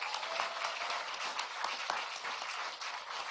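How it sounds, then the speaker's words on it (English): An audience at a political speaking event with President Joe Biden and local officials in Albuquerque bursts into brief, fairly faint applause, a dense patter of clapping lasting a few seconds. "You can give yourselves a round of applause."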